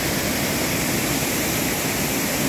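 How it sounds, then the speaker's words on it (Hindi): Waterfall plunging from a great height beside the road to Cherrapunji in Meghalaya, a steady, dense roar of rushing water that fills the whole moment without a break, fairly loud and unchanging. "वाटरफॉल चेरापुंजी वाला रास्ते में काफी ऊंचाई से आ रहा है"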